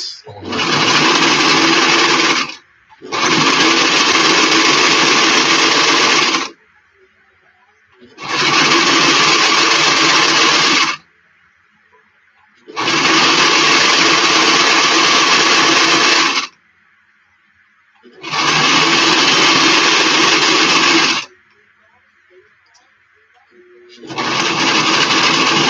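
A sewing machine stitches the fabric of a flat cap in six loud, close bursts of whirring, each lasting a few seconds, with brief quiet gaps between them.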